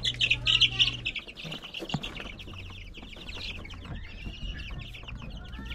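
Chicks at a farm chirping, bright high peeps clustered near the start and scattered after, mixed with low clucking, rustling and a steady low hum.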